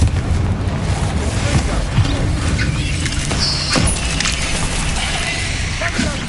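Explosion spells Confringo and Bombarda in the video game Hogwarts Legacy go off as repeated booms and crackling blasts. Dense, loud bursts overlap one another from start to finish.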